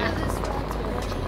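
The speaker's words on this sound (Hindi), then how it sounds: "ये देखिए हेलीपैड है और ये हेलीकॉप्टर आ चुकी है" A helicopter arriving at the Kedarnath helipad, a continuous loud rotor and engine drone with choppy pulsing, with someone talking over it.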